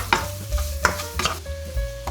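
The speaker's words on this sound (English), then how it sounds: "Give it a bit of a stir." Ham stirred as it fries in canola oil, with a spatula scraping and knocking in a short uneven rhythm over a steady low sizzle, close and fairly loud.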